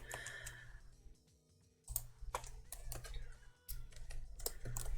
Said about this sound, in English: You can probably hear my typing, like, like I'm typing all aggressive and shit